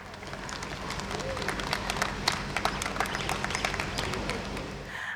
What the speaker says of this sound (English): तालियां बजती रहनी चाहिए, right?